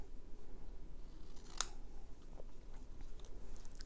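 Scissors cutting a paper label in half: a single quick, crisp snip in an otherwise quiet room, close and brief.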